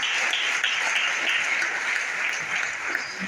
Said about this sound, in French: Est-ce que vous pouvez d'abord applaudir pour...